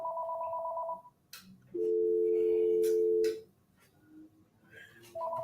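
Telephone line tones as a guest calls into a talk show: short repeated two-tone beeps, a long steady tone, then the beeps again, fairly quiet with faint clicks and noises between them.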